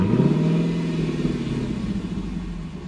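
Hyundai i30 Fastback N engine, a close throaty rumble that rises briefly in pitch as it revs and then settles into a steady drone, fading slightly over about three seconds.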